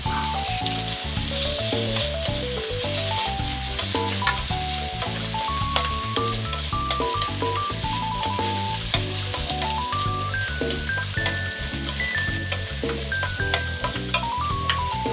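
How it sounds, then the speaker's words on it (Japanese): Bacon sizzles in melted butter in a pot, a constant close frying hiss, but it lies under loud background music with a melody and beat that dominate throughout. "ベーコン炒めます。"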